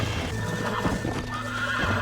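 A horse in the video game Red Dead Redemption gives a close, loud whinny over steady clip-clopping hooves, with faint ambient game sound behind it.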